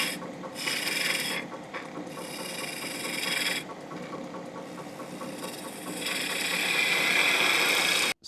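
A wood lathe turns as a tool cuts a sweeping taper beside a bead, giving a steady rasping, scraping hiss in bursts of a second or two with brief pauses, close and continuous over the machine's low running noise.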